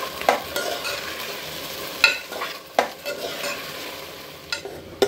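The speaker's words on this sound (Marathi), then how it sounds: "तांदूळ टाकल्यानंतर मी हे तांदूळ असे हलक्या हाताने परतून घेणार आहे" Rice being gently stir-fried in a pan, with a soft steady sizzle and a few sharp clicks of a spoon scraping and tapping the pan, close up.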